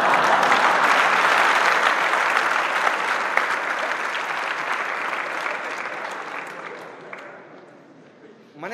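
A large audience claps steadily through a spiritual discourse by Acharya Shri Udayvallabhsuriji, a dense, sustained wash of applause that gradually thins and fades toward the end.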